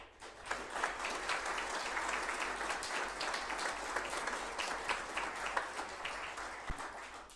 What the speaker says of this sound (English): a much-deserved round of applause for your 22-26 Belleville City Council